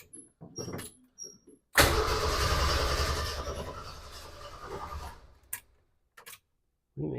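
A Jeep engine cranks for about three seconds without catching because it is out of fuel, a loud, steady starter whir that then cuts off, surrounded by clicks and small mechanical knocks.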